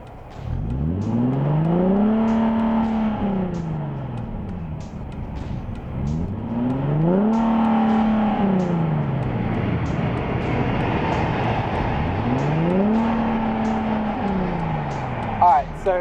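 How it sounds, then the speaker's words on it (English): A Nissan 370Z Nismo engine with valvetronic exhaust revs three times, each rev climbing in pitch and then falling back, loud and close, with a steady idle between the revs. "and then I'll give it a couple revs."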